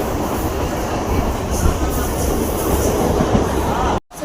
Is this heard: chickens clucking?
no